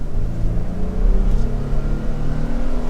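A Nissan Frontier V6 midsized pickup truck engine accelerating, a loud, steady low-pitched drone heard from inside the cab with a rising hum and no speech.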